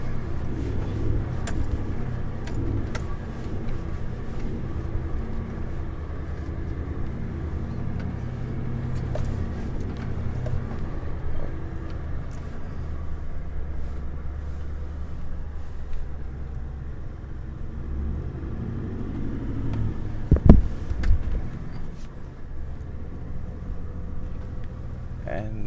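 Steady low engine rumble from inside a moving car during a detour drive, continuous and fairly close, with a brief louder bump near the end and people talking over it.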